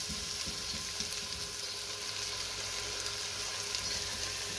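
Tomato masala with green chili, salt and red chili powder fries in a handi, a soft continuous sizzle with faint stirring scrapes, fairly quiet and steady.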